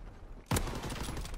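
Gunfire in a video game: after a quieter lead-in, a single sharp, loud shot cracks out, followed by a sustained noisy rumble of further firing and echo.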